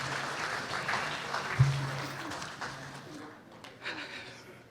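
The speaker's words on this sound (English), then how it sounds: "Round of applause, please." An audience claps to welcome a presenter onto the stage, a moderate patter of applause that rises briefly and then tapers off toward the end.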